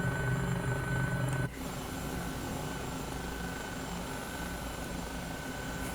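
Eurocopter EC-135 helicopter flying in Microsoft Flight Simulator 2020, a steady droning rotor and turbine hum with tonal whine, loud and continuous, dipping slightly after a brief shift partway through.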